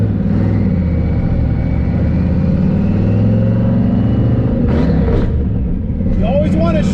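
A car with a faceplated Tremec manual transmission pulls away in first gear. Its engine hums loud and steady at close range while someone talks over it.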